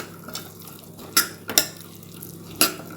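A spoon stirs boiled chickpeas in a metal cooking pot, giving a few sharp, close scrapes and clinks separated by quiet gaps.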